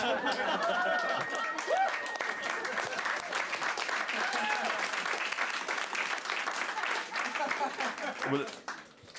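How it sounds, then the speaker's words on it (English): A crowd applauds steadily for several seconds, with some chatter and light laughter mixed in, before the clapping tapers off at the end. "Why didn't you guys applaud that much?"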